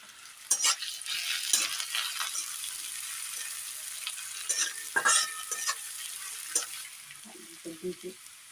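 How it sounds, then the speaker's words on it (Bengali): Chopped onion, ginger and garlic fry in oil for a ghugni, giving a continuous close sizzle broken by bursts of scraping stirring strokes. "পেঁয়াজ, রসুন আর আদাটা আমার ভাজা হয়ে গেছে।"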